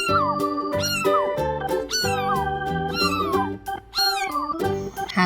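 A cat meows repeatedly, about six clear, fairly loud meows in quick succession with short gaps between them.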